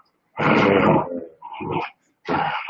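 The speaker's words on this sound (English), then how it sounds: "finish playing with the puppy dog. She sounds so tough." A young puppy growls in play, giving two loud, rough bursts separated by a short pause, followed by a brief yappy growl, all close to the microphone with no talk.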